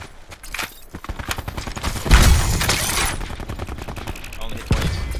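Rapid video game gunfire crackles in bursts over several seconds, with one heavier blast near the middle and voices talking among the shots.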